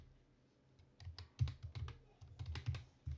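Fingers type on a computer keyboard, a quiet, close patter of irregular key clicks in short bursts with brief pauses between them.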